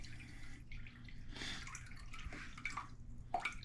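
Purified water is poured into a container for a homemade jewelry cleaner. The sound is faint and close, with irregular drips and a light trickle in a quiet room, and no talking.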